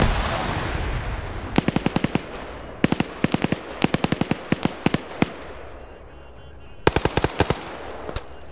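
Rapid automatic gunfire bursts in an Arma 3 PvP match, sharp clustered shots in several volleys over a rushing background, no talk.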